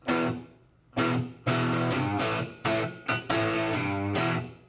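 Clean, dry electric guitar strums in short rhythmic bursts, each chord cutting off sharply with no echo or lingering tail.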